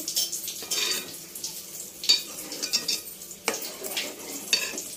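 Egg and dry fish tamarind curry is stirred in a pot, giving soft scraping and spoon knocks against the metal with a faint background sizzle, with no voices.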